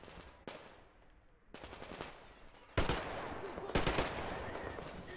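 Automatic gunfire from a weapon in the video game Metro Exodus, several loud bursts, the last two the heaviest, fired in rapid succession.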